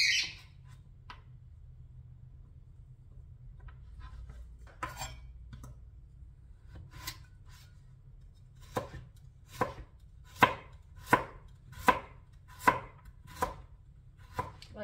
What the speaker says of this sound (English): Turnips big. I'm cutting them into small pieces